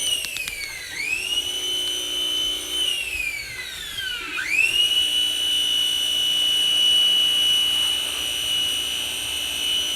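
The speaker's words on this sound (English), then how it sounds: "making sure my pressure washer working" A pressure washer runs with a loud, steady high-pitched motor whine that dips in pitch twice as it loads and then climbs back to a constant drone.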